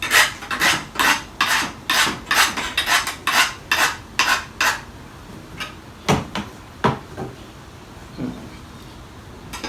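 A hand file rasps back and forth across a well-worn pruner blade in a garden, about a dozen quick rhythmic strokes at close range, then a few slower, sparser scrapes.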